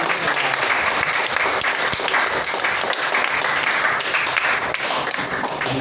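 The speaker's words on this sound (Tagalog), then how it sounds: "Palakpakan mo natin ang ating Panginoon." Church congregation applauding in praise, a dense, steady wash of clapping from many hands that stays loud and even throughout.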